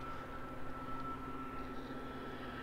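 A small multi-engine training plane passes overhead as a steady, distant propeller drone with a faint tonal hum, fairly quiet and continuous throughout, with no voices.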